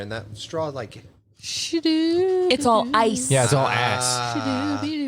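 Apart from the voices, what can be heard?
None of the usual background noises is heard.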